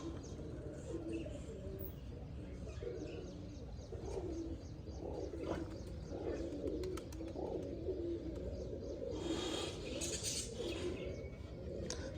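Pigeons coo repeatedly in low, soft rolling calls at moderate distance, with faint chirps and a steady background hum running underneath.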